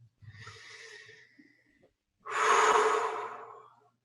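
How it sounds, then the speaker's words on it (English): A single deep breath, a soft inhale followed by a long, loud, breathy exhale that stands alone with no talking. "And take a deep breath."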